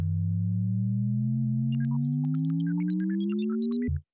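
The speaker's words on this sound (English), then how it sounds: "that's definitely the sound of the ship powering up" A sci-fi spaceship powering up: a loud synthesized hum glides steadily upward while rapid high chirping blips and bloops scatter over it, then everything cuts off abruptly.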